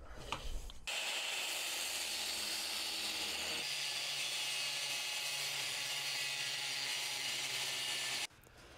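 Power-tool cutting of steel mounting plates for a custom winch mount on a workbench: a loud, continuous high-pitched grinding whine that starts abruptly, runs unbroken for about seven seconds, then cuts off.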